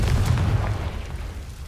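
A deep, rumbling explosion from the Confringo blasting spell in the video game Hogwarts Legacy, one heavy boom fading out over under two seconds.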